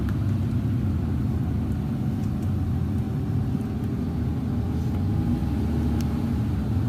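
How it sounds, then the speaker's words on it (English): A car drives steadily along a school campus route with a constant low engine rumble and road noise throughout, fairly close and even in level, with no voices. "we'll continue driving here"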